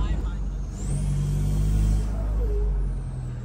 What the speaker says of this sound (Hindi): थोड़ी सी आवाज भाई इसकी ज्यादा होगी क्योंकि सलेंसर आई थिंक नीचे से ना जब हमने फिट करा उसने जैक लगाया था, जैक से हो गया वो क्रैक।